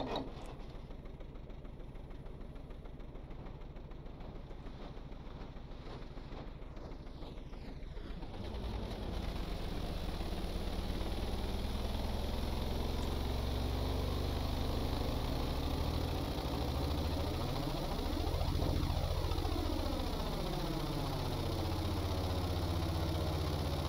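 Twin tugboat engines in a simulation game drone steadily during testing, a low throbbing hum that swells and grows louder after a few seconds, then holds a rising, sweeping tone, with no talking.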